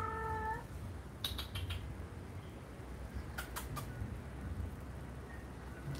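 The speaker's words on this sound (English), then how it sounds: "there's a cat somewhere around by the neighbor." A hungry-sounding cat meows near a neighbour's house, brief tonal cries at the start, then faint chirps over steady background rumble, with no talking.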